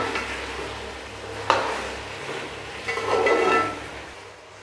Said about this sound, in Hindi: 3 से 4 मिनट मैंने किया है अरबी को फ्राई।